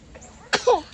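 A single short, sharp sneeze bursts out close by after a faint breath, over quiet room noise.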